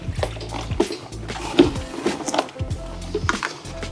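Basket of 3D printed parts lifted out of a wash tank, with water splashing and dripping in irregular bursts alongside clunks and knocks, fairly close and moderately loud.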